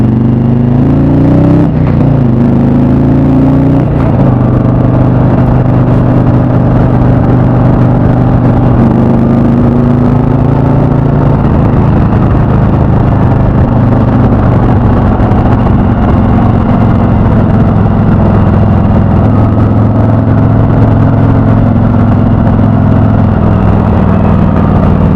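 A 2017 Harley-Davidson FreeWheeler trike cruises along the road, its engine giving a steady low drone with wind and road noise, a brief rise early on, then holding even and loud throughout with no talking.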